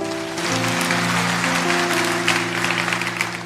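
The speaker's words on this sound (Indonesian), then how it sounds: "Kasih tepuk tangan untuk Tuhan." A church congregation applauds during a sermon, the clapping rising under sustained organ or keyboard chords that ring beneath it at close range.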